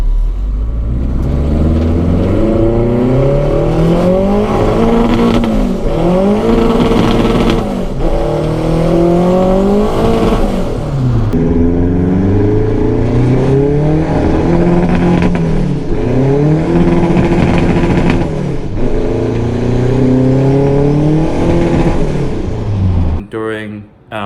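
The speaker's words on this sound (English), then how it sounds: "We're gonna show you a clip right now of Carlos's car running." Turbocharged Honda K20/K24 engine running close up, revving repeatedly in rising and falling sweeps with a steady loud drone throughout and a brief cut at the end.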